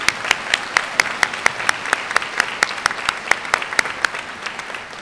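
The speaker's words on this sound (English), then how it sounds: "Let's give them a round of applause." Applause from a crowd at the Bloomington High School North commencement ceremony in 2018 is heard. It comes as steady, dense clapping with sharp rhythmic claps standing out near the front, continuing strongly for the whole stretch with no talk.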